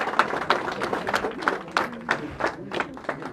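Applause welcoming Mushtaq Bukhari at a party office, with bursts of clapping from a gathered crowd rising and falling in uneven waves.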